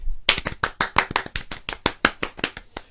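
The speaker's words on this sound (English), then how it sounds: "we owe Richard Suggett a big round of applause" Small group applauding Richard Suggett at a live gathering, a brisk run of close, distinct hand claps from a few people, steady and fairly loud throughout.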